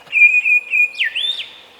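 A pair of grey shrike-thrushes calls in the wild: loud, close, clear whistles, with three sustained pulsed notes followed by a sweeping, ringing slurred phrase, and no voices.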